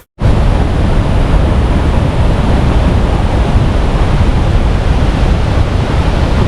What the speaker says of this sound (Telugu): Welcome to అత్తిరేపల్లి water falls. చాలా ఫేమస్ వాటర్ ఫాల్స్.